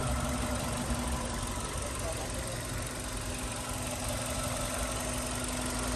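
A 2012 Hyundai Avante with an automatic transmission idles smoothly on its original engine, giving a steady, even, close-up hum with no breaks.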